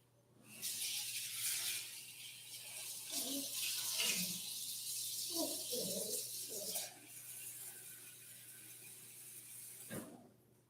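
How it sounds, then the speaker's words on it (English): Water pours and splashes over rice as it is drained and rinsed, a hissing rush with some sloshing that tapers to a lighter trickle and ends with a short knock. "So we're going to drain out this water and then rinse again."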